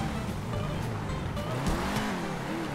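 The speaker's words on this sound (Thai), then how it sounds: "อันนี้เหมือนเป็นรถมัสเซิลคาร์นะครับรถเก่าๆแต่ว่าเครื่องโคตรแรง" An old muscle car with a powerful engine revs in GTA V, a steady throaty drone that rises and falls with a brief tyre-like squeal, heard fairly faintly alone.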